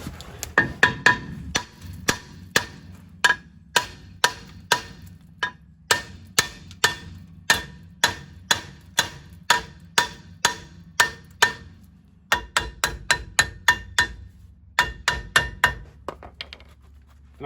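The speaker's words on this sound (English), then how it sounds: "let's just whack it with a hammer" Repeated hammer blows strike a rusted rear brake disc on a Ram 1500 after 11 years on salty roads, sharp metallic whacks landing in steady rhythm, about two per second, close and loud with a brief pause midway.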